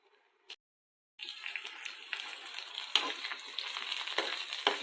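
Onion pieces and curry leaves fry in oil. A quiet, brief tap comes first, then the bright crackling sizzle rises suddenly and carries on steady and fairly loud, with a few scraping stirs.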